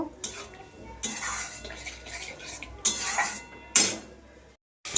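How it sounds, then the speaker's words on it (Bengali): A spoon scrapes and clatters in bursts against a pan as fried spice paste (masala) is stirred and cooked for a chana dal and egg curry. The strokes are close and irregular, with no talking. "মশলাটা আমি ভালোভাবে কষিয়ে নেব"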